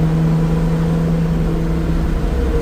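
A BMW E30 fitted with a DCT gearbox pulls away at light throttle, its engine note a steady, close mid-pitched drone with a constant tonal hum, swelling smoothly with no gear breaks.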